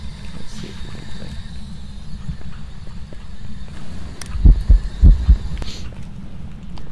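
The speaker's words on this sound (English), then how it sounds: "Heartbeat was that was yeah, very loud heartbeat" Loud, low heartbeat from the Phasmophobia ghost-hunting game, thumping in a steady rhythm beneath a constant hum and growing heavier with several strong beats near the end, with no talk.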